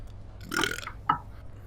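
A single close sneeze: a breathy, hissing burst followed moments later by a short, sharp release, with no talking.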